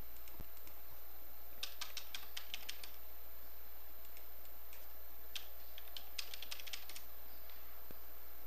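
Login email typed on a computer keyboard: quick bursts of light key clicks separated by short pauses, close and quiet over a faint steady hum, with no talking.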